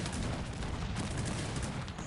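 Cannon volley in the Cossacks 3 strategy game: a dense, continuous roar of overlapping artillery blasts with no pause, loud and filling the whole moment with no voices.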